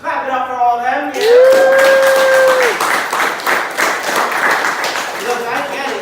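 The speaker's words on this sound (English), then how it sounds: "let's clap it up for all of them" An audience at a meeting applauds first-timers, a dense burst of clapping that swells after a loud vocal cheer and carries on steadily, with voices mixed in.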